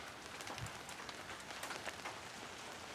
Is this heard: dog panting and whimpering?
no